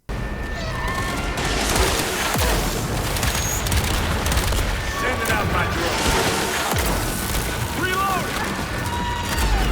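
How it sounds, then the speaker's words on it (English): Dense, rapid gunfire fills a firefight in Toxic Commando, with shots piling over steady booms and other game noise, the reports close and loud the whole way through. "Each gun report feels dense and meaty"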